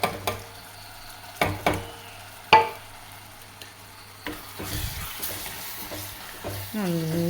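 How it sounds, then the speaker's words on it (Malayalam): Masala powders being stirred into sautéed onion and tomato in a pan, with soft sizzling and frying under a few sharp spoon scrapes and clinks against the pan, close and moderately quiet. "അപ്പോൾ അതിലേക്ക് മസാലപ്പൊടികൾ എല്ലാം ഇട്ട് കൊടുക്കാം കേട്ടോ."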